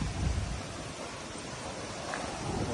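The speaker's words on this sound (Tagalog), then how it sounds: "Naririnig yung ano, pagaspas ng hangin" Steady, broadband wind roar buffeting the microphone, rising slightly at the start and end, with no voices.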